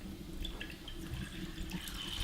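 Grape juice poured steadily into a saucepan gives a continuous, close splashing and gurgling liquid stream for the whole moment, with no voices.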